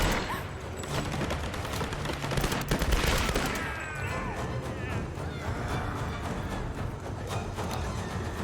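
Gunfire in the video game Tomb Raider (2013), rapid bursts of shots with booms and clatter over a dense, busy game soundscape.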